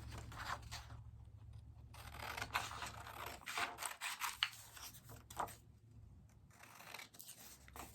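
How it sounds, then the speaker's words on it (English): Scissors cut along the edge of a handmade patriotic paper ornament, a quiet close series of crisp snips and rustling paper with a low steady hum underneath. "I'm just going to take my scissors and cut the edge."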